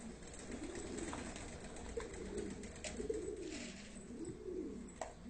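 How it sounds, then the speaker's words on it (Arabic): Pigeons coo in repeated rolling phrases close by after landing, with a faint wing flutter and light outdoor background. "هنا رجعت حطت الحمام"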